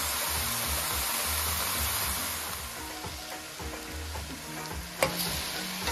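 Garlic, onion, pimentos, hot pepper and tomato sizzle in a pot for an eddoe stew, a steady, close frying hiss that runs throughout with a faint clink near the end.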